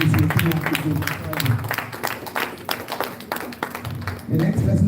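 An audience claps for the Institute Secretary at a legal studies founders lecture in Nigeria, steady applause that swells again at the end, with a voice speaking over it.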